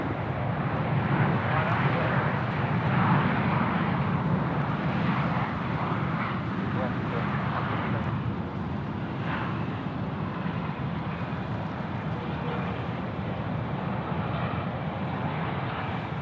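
An airliner takes off from runway 34 left at Sydney Airport, a loud, steady, broadband jet roar that holds for the whole stretch with no clear talk over it.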